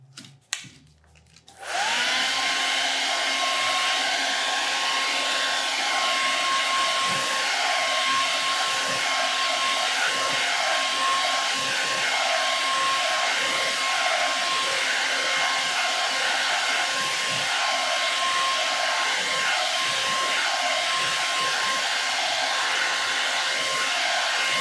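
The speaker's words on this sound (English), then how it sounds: "All right, I think I'm still gonna have to blow dry." A hair dryer blows close and loud onto a painted stencil project. It switches on after a brief moment and then holds a steady, unbroken whooshing roar with a constant whine.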